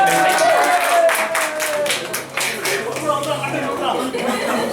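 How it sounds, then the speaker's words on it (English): An audience at a magic show applauds a wedding couple, with a crowd clapping steadily at a moderate distance under scattered chatter and laughter. "Give a big round of applause for a beautiful wedding"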